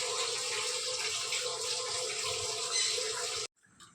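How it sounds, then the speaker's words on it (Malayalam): Water pours steadily into a pressure cooker to rinse it in a home kitchen, a continuous splashing rush for about three and a half seconds before stopping abruptly, followed by faint clatter. "അതേ കുക്കറിൽ തന്നെ ഒന്ന് വെള്ളം ഒഴിച്ച് ചുറ്റിച്ചത് മാറ്റിയ ശേഷം"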